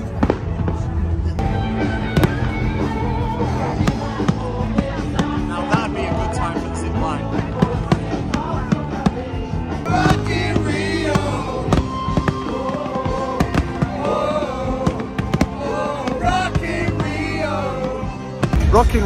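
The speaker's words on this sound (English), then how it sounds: "Mate, there's a firework display on." Fireworks display at the Rock in Rio 2022 festival in Lisbon bursts in rapid, continuous cracks and booms for the whole stretch, loud and near, with crowd noise and some talk mixed in.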